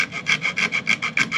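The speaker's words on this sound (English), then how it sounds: "now I'll use the rasp to get off most of the material down to the line I" A rasp files the wooden bridge of a mandola in quick back-and-forth strokes, about eight rough scraping passes in steady rhythm, close and clear with no talking.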